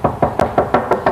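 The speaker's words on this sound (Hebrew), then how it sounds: "גם פעמון, גם דפיקה" Knocking on a door in a TV comedy sketch: six quick, evenly spaced, loud knocks close by, with no voices.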